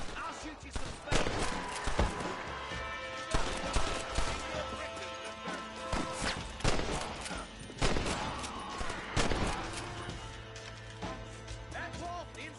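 Rapid gunfire rattles through a Red Dead Redemption shootout, sharp shots in irregular bursts layered over game music and character voices, loud and close throughout.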